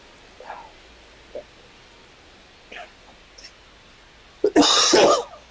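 A streamer playing MLB The Show 25 gives one harsh, loud cough near the end, after a few faint scattered sounds over quiet background hiss.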